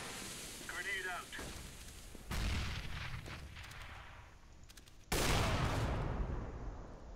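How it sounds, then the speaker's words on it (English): A grenade blast in a CS:GO match on the Mirage map: two sharp, loud booms with long rumbling tails, the second stronger and later, following a burst of voice chatter. "Grenade out."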